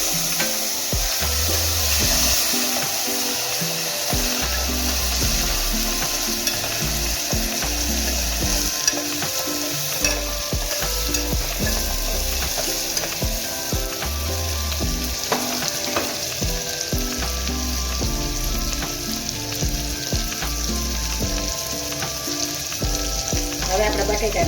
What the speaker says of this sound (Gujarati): હવે આ ટમેટા છે ને થોડો મસાલો હોય તો એ આપણે વઘારી નાખશું